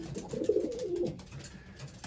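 Soft, close cooing of racing pigeons inside a loft, a low burbling call swelling and fading over about two seconds.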